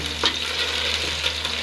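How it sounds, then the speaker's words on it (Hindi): Onions sizzle steadily as they brown in a pan for beef pulao, with soft scraping strokes of a spoon stirring through them. "प्याज जो है वो हमारी ब्राउन होना शुरू हो गई है। इसको मैं थोड़ा सा कलर और दूंगी।"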